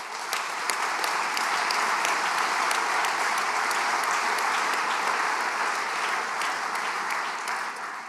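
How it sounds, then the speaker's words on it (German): Steady applause from a large audience at a shareholders' general meeting of an insurance holding company, a dense wash of clapping sustained for about eight seconds before tapering slightly at the end. "das verdient auch einen entsprechenden Applaus"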